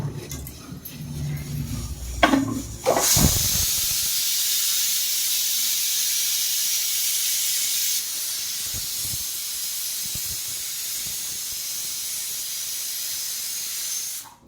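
A loud, steady sizzle and hiss bursts up suddenly after a few seconds of clattering, then holds evenly as a pinch of mustard seeds fries in hot groundnut oil.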